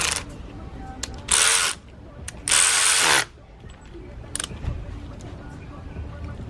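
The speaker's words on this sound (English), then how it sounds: "Tighten them down evenly. Give it an extra turn." A ratchet tightens gasket bolts during a K04 turbo install on a Mk5 GTI, heard as two short bursts of rapid clicking with lighter clicks and handling noises between.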